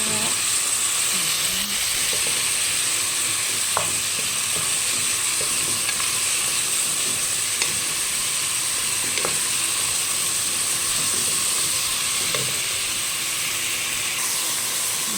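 Meat sizzles and fries steadily in a hot pan as an Arabic basela dish is cooked, a continuous close hiss with occasional clinks and stirring scrapes and no talking.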